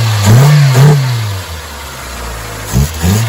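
A 1999 Saturn SC1 with a SOHC engine runs close by, its idle rising in two quick revs near the start and again near the end, steady and unmuffled in between.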